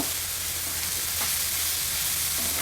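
Chillies sizzle in hot oil for a tempering in a pan while making spot idli, a dense, steady crackling fry heard close up and alone.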